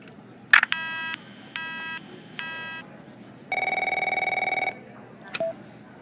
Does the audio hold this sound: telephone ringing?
yes